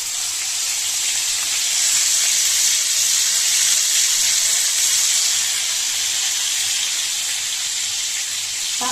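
Afghani chicken pieces frying in hot oil give off a loud, steady hiss and sizzle that holds evenly for the whole stretch, with no voices over it.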